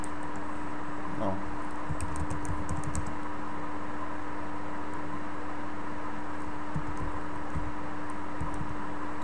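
A few quick bursts of soft key clicks as a search keyword is typed on a computer keyboard, faint beneath a steady electrical hum and hiss.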